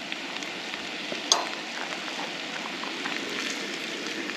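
Scalloped potatoes with ham being stirred in a hot pan give off a steady, close sizzle, with one sharp utensil clack partway through and no voices.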